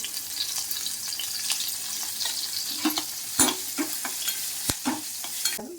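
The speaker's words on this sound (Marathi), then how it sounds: "आणि तेल परतून घ्यायचं चांगलं परतून घेतलं" Green chilies and turmeric sautéing in hot oil for a guava pickle, a steady close sizzle with repeated sharp clinks and scrapes of a spoon stirring the pan, no voices.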